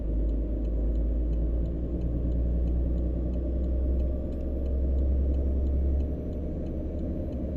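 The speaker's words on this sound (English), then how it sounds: "Let's put on our four-way hazards." Four-way hazard lights ticking in a Volvo VNL300 truck in American Truck Simulator, an even, rapid series of clicks over the truck's steady low engine rumble, with no voices.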